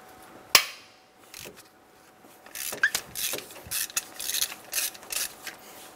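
Ratchet loosening a 14 millimeter nut and bolt on the engine of a 2000-2006 Toyota Tundra 4.7L V8: one sharp knock comes first, then a run of close, rapid clicking ratchet strokes in quick bursts.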